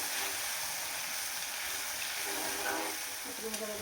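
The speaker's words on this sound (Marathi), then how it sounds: "त्याच्यामध्ये टाकायचं आणि छान परतून घ्यायचं" Cluster beans (gavar) being sautéed in a pan for a dhaba-style dish, giving a steady, fairly quiet sizzle and hiss with occasional small stirring clicks near the end.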